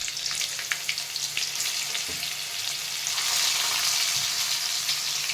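Ridge gourd sizzling in a cumin and mustard-seed tempering, a close, steady frying hiss with light stirring scrapes and a brief thump midway, with no talking.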